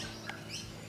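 Wild birds sing from the trees around an outdoor garden, heard as a couple of faint, brief chirps over a soft steady background.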